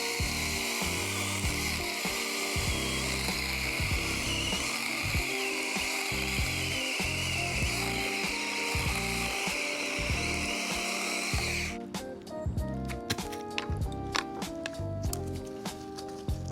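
A Seesii 6-inch battery pruning chainsaw cuts through logs with a close, buzzing motor whine and chattering cutting noise. The tone shifts near the end as the cut changes.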